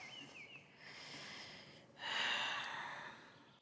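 Slow deep breathing during a vinyasa yoga flow: a soft, drawn-out inhale followed by a louder, airy exhale, close and quiet with no talking.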